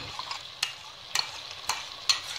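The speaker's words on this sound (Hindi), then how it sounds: "अब इसे हम फ्राई करेंगे" Punjabi chicken masala with yogurt fries in a pan under a soft background sizzle, broken by four evenly spaced scraping stirs of a spoon, nearby and with no talking.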